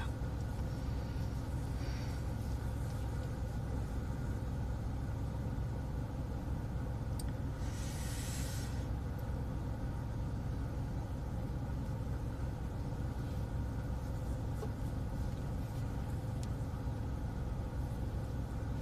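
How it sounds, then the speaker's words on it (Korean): Wind blows outdoors as a steady, low, unbroken rumble that lasts the whole stretch, with a brief faint hiss partway through. "바람이 소리가 들리고 있죠"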